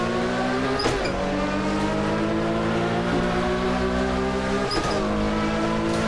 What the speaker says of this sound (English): this 917 ahead is screaming